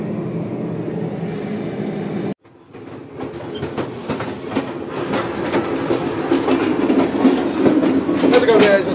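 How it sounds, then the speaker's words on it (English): Steady rumble and rhythmic clatter of rail cars on a moving passenger train, loud and continuous after a brief silent gap, with wheel clacking building through the ride. "We are on a train ride."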